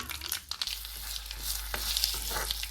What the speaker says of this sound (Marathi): परत एकदा कढईत तेल टाकून आतमध्ये आता जिरा जिरा जिरं टाकलंय राई राई पण टाकते थोडीशी